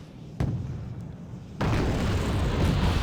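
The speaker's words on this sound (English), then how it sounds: "SU-17 coming in, trying to make a run. It gets its bombs off." Bombs dropped by an SU-17 jet exploding in the Wargame Red Dragon battle game: a sharp thump, then a sudden loud rumbling blast that swells into sustained roaring noise, close and heavy, with no talking.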